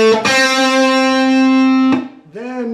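An electric guitar plays a short distorted lick with a hammer-on from a song, a sustained bright note ringing, then a quick pick attack and rising bent-sounding notes, loud and close.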